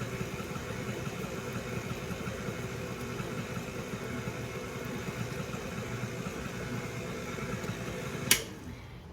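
Stand mixer kneading pizza dough at home, a steady low motor hum with whirring running evenly throughout, fairly quiet, then a brief sharp click near the end.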